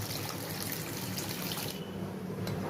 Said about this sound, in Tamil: இந்த ஸ்டேஜில் நம்ம புளி கரைச்சலை ஊற்றிடலாம்.